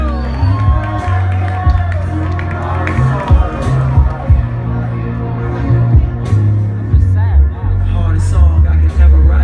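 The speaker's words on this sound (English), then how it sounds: "Make some noise for yourself, man." Concert crowd at a live show cheering, whooping and clapping in a sustained, loud wash of noise, with shouts rising over a steady low music bed throughout.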